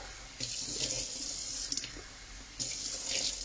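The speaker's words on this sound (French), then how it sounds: "là je vais faire couler hop, de l'eau et je vais ressuyer" Tap water gushes into a sink while a drain trap is cleaned, running steadily in two close, fairly loud bursts with a short quieter gap between them.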